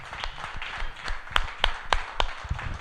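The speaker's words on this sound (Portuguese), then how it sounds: "Mais uma salva de palmas ao Senhor." Sparse, uneven hand claps from a church congregation, a handful of sharp distinct claps over a low murmur of voices in a reverberant hall.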